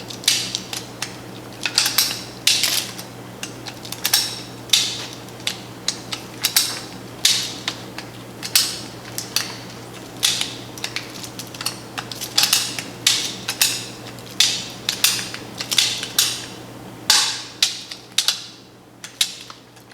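A jerky gun presses out ground venison strips with repeated ratcheting trigger clicks and squeaks, landing in an uneven rhythm close by over a steady background hum.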